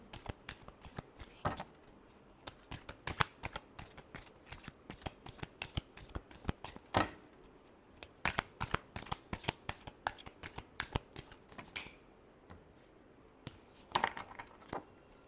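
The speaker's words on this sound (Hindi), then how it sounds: "Last shuffle." Tarot cards shuffled by hand, a steady stream of close, crisp riffling and flicking card sounds over about fifteen seconds, without talk.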